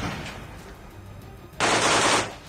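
A Russian soldier fires in rapid bursts from a room inside the Azovstal steel plant, the gunfire loud and close, with a dense, sustained volley of shots about a second long after quieter rumbling.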